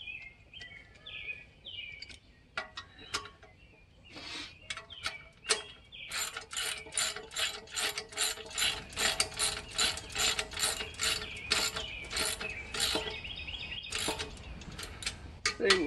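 A ratchet wrench tightens lock nuts in quick bursts of close, dry clicking that run nearly continuously through the second half, after a few scattered clicks and bird chirps early on.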